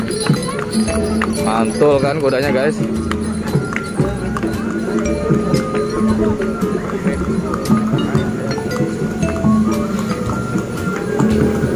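Horse hooves clip-clop on pavement at a Betawi ondel-ondel street procession, the steady clopping mixed into crowd noise, music and someone talking over it.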